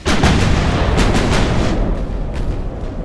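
Big 9-inch naval guns firing in a naval battle in Ultimate Admiral: Dreadnoughts, a loud, dense run of heavy booms that start sharply and repeat in quick succession over a continuous rumble, with no talking.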